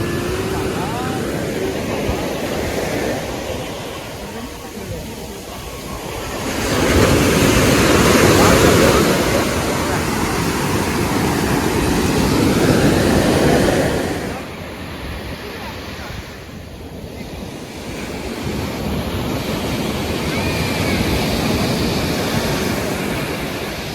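Sea waves roll onto the beach at Puri in a continuous roar, swelling louder for several seconds in the middle, with gusty wind buffeting the microphone.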